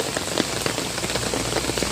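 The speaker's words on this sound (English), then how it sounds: "very strong rain today." Strong downpour on a hot day, a thick constant patter with frequent crisp drop hits spaced through it, close and loud throughout, with no talking.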